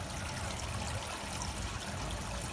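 Faint, steady rain pattering with water trickling and running nearby during a downpour, an even wet wash without voices.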